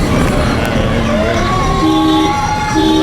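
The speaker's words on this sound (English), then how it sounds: "Finishing to the blaring of the horns as he's right on us." Horns blare at a secondary school cross country race finish in Nevis, loud sustained wailing tones shifting pitch over crowd noise and outdoor bustle.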